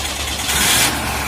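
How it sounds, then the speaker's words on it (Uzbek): A Volga or Moskvich pickup's engine catches and settles into a steady, close idle that runs unbroken for just over a second, with no voices. "Yaxshi, mashinani bittada o't oldi. Ovozi ham mana eshitib turganlaringdek, ovozlari ham yaxshi"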